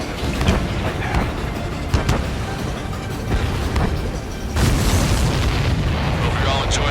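Explosions in Ace Combat 7 during a battle at Tyler Island, a dense continuous roar of booms and blasts with a heavier burst midway, loud and close under radio chatter.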